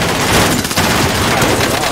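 Rapid video game gunfire rattles in loud, dense bursts, machine-gun style, filling the short moment with a brief dip in the middle, and a voice briefly speaks over it.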